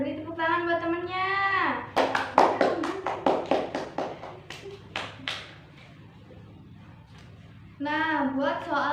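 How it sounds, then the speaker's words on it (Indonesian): In a grade 2 microteaching classroom, a quick run of roughly a dozen crisp, rhythmic hand claps rings out between stretches of an adult voice talking before and after. "Beri tepuk tangan buat temennya."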